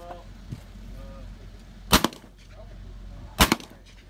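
Two sharp, loud gunshots from a shooting shootoff, spaced about a second and a half apart, each with a quick echo tail over quiet outdoor ambience, no voices.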